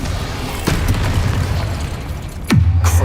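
Confringo fire spell explosions in the video game Hogwarts Legacy: two loud booming blasts, the first near the start and the second near the end, each with a deep rumbling low tail and a busy game background between them.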